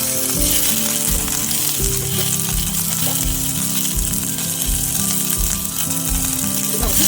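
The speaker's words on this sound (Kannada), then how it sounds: "ಸ್ವಲ್ಪ ಫ್ರೈ ಮಾಡಿ ಇದು ಇಲ್ಲಿ ಒಂದು ಕ್ಯಾಪ್ಸಿಕಮ್ ಹಾಕಿದ್ದೀನಿ, 3 ಹಸಿಮೆಣಸಿನಕಾಯಿ ಹಾಕಿದ್ದೀನಿ, ಒಂದೇ ಒಂದು ಟೊಮೆಟೊ ಹಾಕಿದ್ದೀನಿ." Capsicum, three green chillies and a tomato fry in oil in a separate pan, a loud, dense, close sizzle that crackles continuously with occasional stirring.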